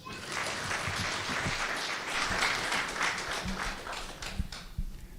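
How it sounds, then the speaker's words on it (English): A Right To Play Rwanda certificate awarding ceremony fills with sustained audience applause: a steady wash of many hands clapping at moderate level, with a few sharper close claps near the end. "could you please join me again and give a big applause to him?"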